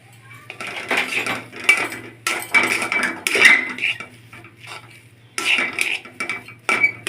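Sugar syrup for motichur laddu is stirred in a pan with a metal spoon, giving bursts of clinking and scraping strokes separated by short pauses; no voice is heard.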